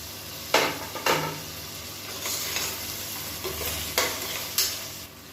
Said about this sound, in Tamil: இஞ்சி பூண்டு பேஸ்ட் வந்து சேர்த்து நல்லா வதக்கி விட்டுக்கலாம்